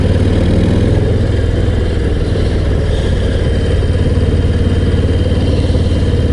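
Harley-Davidson Low Rider ST motorcycle idling up close on a gravel stop after a mountain ride, a deep steady V-twin rumble with lumpy low pulses held throughout.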